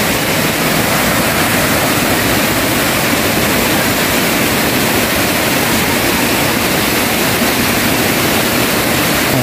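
A loud, constant roar of falling water, broad and unbroken like a nearby waterfall crashing down, with no other sounds breaking through.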